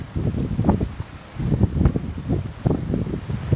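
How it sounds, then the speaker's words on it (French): Gusty wind picking up ahead of a storm at an outdoor fishing spot, buffeting the microphone in rough, rising and falling low rumbles that come in several surges, with no talking. "le vent il commence à souffler"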